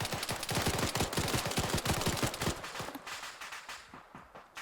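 Rapid automatic gunfire from Arma 3 combat, a dense burst of loud, close shots in a steady rattling rhythm that thins out and fades toward the end.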